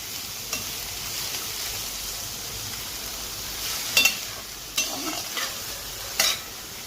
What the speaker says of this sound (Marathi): आता या भाज्यांमध्ये थोडं मीठ ॲड करून थोडं नॉर्मली मीठ ॲड करून आपण ह्या फ्राय करून घ्यायचं